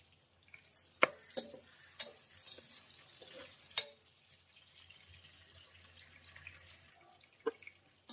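Onions go into hot oil and fry quietly, a faint sizzle under scattered spoon taps and stirring clinks, a few sharper knocks standing out, with no one speaking.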